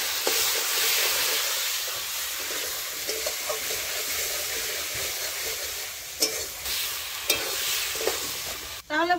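Potatoes fry with a paste of green chili, ginger, cumin and onion in a pan, a loud steady sizzle broken by a few sharp stirring scrapes, ending in a brief clatter.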